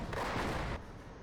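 Gunfire rattles in a Company of Heroes battle as three machine guns pin down enemy infantry, a dense loud burst of shots lasting under a second before trailing off into quieter battle noise.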